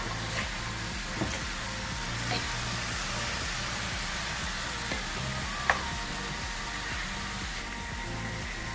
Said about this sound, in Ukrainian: Поки в нас все тушиться, смажиться